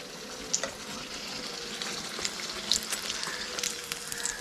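Chicken chilli bajji frying in hot oil, giving a steady close sizzle with small irregular pops and crackles, no voices.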